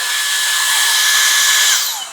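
A Dyson Airstrait hair dryer switches on and blows air in a loud, steady, close whoosh with a high-pitched whine, easing off slightly at the end.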